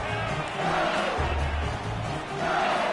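An intimidating stadium crowd at an American football game stays on its feet yelling and screaming, a dense continuous roar of many voices with surging peaks, close and loud throughout.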